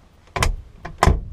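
The door of a 1955 Austin A90 Westminster is pushed shut twice and fails to latch, making two close, hollow metallic thuds with short clunks in between.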